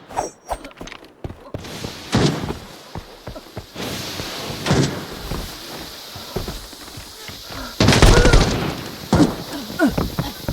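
A grenade explosion and gunfire from the shooter game Arena Breakout Infinite come through as loud, sharp bursts and thuds spread across the clip, mixed with scattered game noise.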